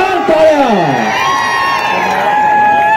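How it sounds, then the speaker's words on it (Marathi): A crowd at a dahi handi festival in Moshi cheers and whoops loudly for a celebrity guest, a dense swell of shouting voices with rising tones, applause faint beneath the noise. "डोक्यावर हात घेऊन जोरदार टाळ्या वाजल्या पाहिजे."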